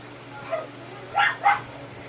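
A dog gives a few short, sharp barks and yips at moderate distance, three quick bursts against a faint steady hum.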